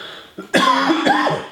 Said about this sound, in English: Keep coughing, I apologize.